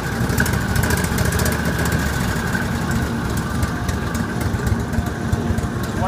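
An Argo ATV engine idles steadily while running too rich, its rough, even mechanical drone close and continuous throughout with no talk over it.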